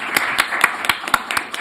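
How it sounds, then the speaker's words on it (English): A school board meeting audience claps for a group of young women, with close, distinct, irregular hand claps over a low room hum. The claps are brisk and fairly loud. "But great round of applause for these amazing young ladies."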